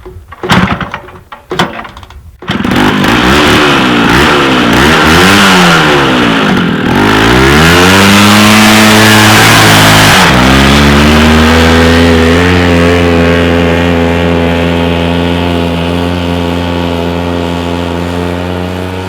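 After a few knocks and clunks, a Rokon motorcycle engine is kickstarted, catches and revs up and down several times, then settles into a loud, steady idle close by.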